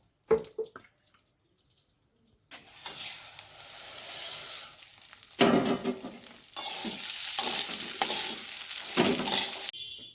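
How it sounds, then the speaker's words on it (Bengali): Gobindobhog rice frying in a spoonful of ghee in a pan for khichuri: after a quiet, clattery start, a bright, close sizzle bursts in and carries on, surging and dipping as the grains are stirred, with no talking. "এবারে 1 চামচ গা ঘি দিয়ে আমি গোবিন্দভোগ চাল কটাকেও ভেজে নেব।"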